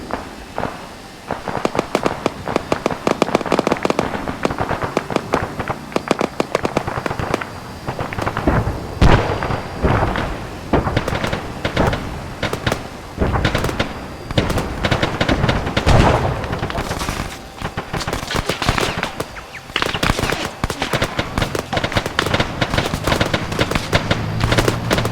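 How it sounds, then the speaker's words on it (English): Heavy gunfire in the Arma 3 military video game, dense continuous bursts of loud automatic fire and booming shots rolling on for the whole stretch without a break. "It's heavy fucking guns."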